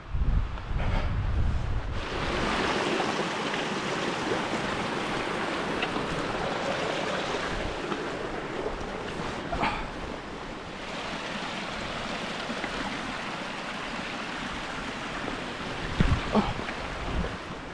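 Carling Gill, a river in the Yorkshire Dales, rushes in a steady, full-bodied wash of flowing water that carries on without a break, with gusts of wind buffeting the microphone now and then.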